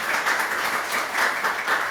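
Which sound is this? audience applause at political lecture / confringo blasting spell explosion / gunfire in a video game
audience applause at political lecture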